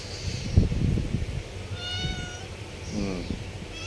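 A house cat meows for food several times in short, close calls, with faint rustling and soft background noise between them.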